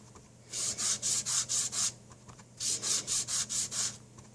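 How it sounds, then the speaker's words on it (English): A sponge dabs Sahara Sand ink onto a watercolor card in two quick bursts of about six soft, scratchy rubbing strokes each, close and steady with a short pause between the sets. "I'm just going to sponge the bottom third or so with Sahara Sand"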